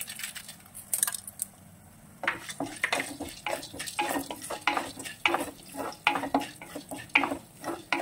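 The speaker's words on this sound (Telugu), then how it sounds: "కొంచెం ఆయిల్ వేసుకుని కొంచెం అందులో జీరా, ధనియాలు, కొంచెం శనగపప్పు," Cumin, coriander seeds and chana dal fry in a little oil in a pan while a tomato-coriander chutney is being prepared. Soft sizzling runs under repeated scraping and stirring clicks, with a quieter moment early on. No one talks.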